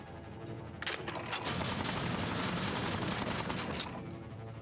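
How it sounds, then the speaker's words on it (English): Rapid sustained Gatling gun fire in the video game Aether & Iron, a dense continuous rattle that starts after a brief quiet moment and runs loud for several seconds before easing slightly at the end. "Let's move back here and open up with this Gatling gun."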